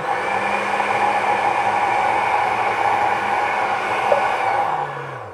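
A Mallory Magnific 800W blender with a glass jar runs steadily with wheat flour inside, giving a loud continuous motor whir and grinding roar that holds throughout, with a slight pitch drop near the end.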